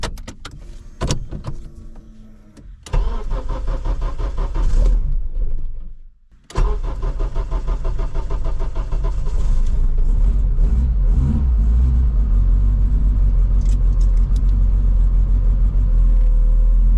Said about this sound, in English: I am going to turn the car on to warm it up